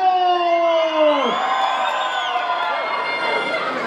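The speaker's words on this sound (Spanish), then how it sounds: "¡Grito, chiflido, aplauso!" Crowd at a jaripeo rodeo during an annual fair in Santa María Velató, shouting and whooping in a dense, continuous roar with a loud whistle-like tone sliding down early on.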